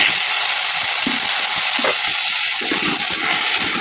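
Loud, constant sizzle of potatoes frying in hot oil with bay leaf, cumin and cinnamon, with occasional soft knocks from stirring beneath the hiss.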